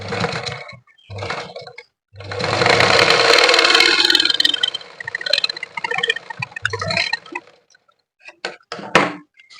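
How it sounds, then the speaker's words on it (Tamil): Sewing machine stitching a blouse, bursts of mechanical whirring and rapid clatter that start and stop, with one long run in the middle and short handling noises between, close up and alone. "நடுவுல ஒரு தையல் போட்டுக்கோங்க."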